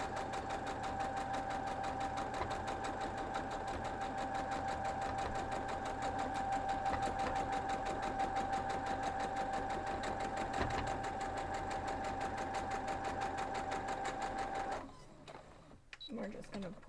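A sewing machine stitches a quilt block in a continuous, even mechanical whir with a steady rhythmic clatter, running for about fifteen seconds before stopping abruptly, followed by quieter handling sounds.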